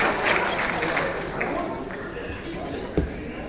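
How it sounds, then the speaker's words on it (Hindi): Dense, continuous audience applause fills an award ceremony hall at a music memorial event. The clapping stays loud and steady throughout, with crowd murmur underneath. "ताली तो ज्यादा बजाओ"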